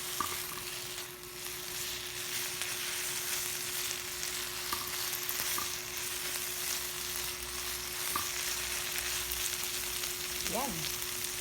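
An egg fries in a pan for ginisang ampalaya, giving a steady close sizzle throughout with faint stirring scrapes and a few light clinks, without talk.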